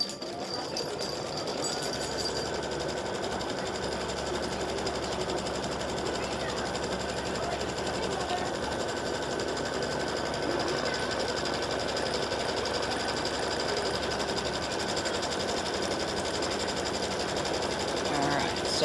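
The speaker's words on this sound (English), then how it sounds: "I'm just going to go ahead and do color stop number 3, which is the placement stitch for the center fabric." An embroidery sewing machine runs a placement stitch for the center fabric of a mug rug, a steady, dense mechanical whir and rapid needle chatter holding continuously at close range.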